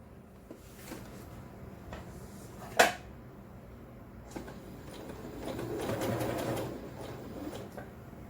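A sewing machine runs in a short burst while stitching a homemade door mat, a low, steady whirr that swells near the end over quiet room noise, with one sharp click partway through.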